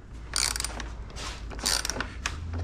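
Bolts being removed from the fairing of a Harley-Davidson Street Glide ST 117, with close ratcheting clicks and short metallic mechanical bursts in two main spells, fairly loud.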